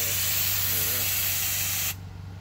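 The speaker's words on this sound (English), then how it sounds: "Got a little purge going there." Nitrous purge on a 2006 Chevy Trailblazer SS with an LS2 engine, full bolt-ons and a 100-shot kit, a loud close hiss over an idling engine that cuts off sharply near the end.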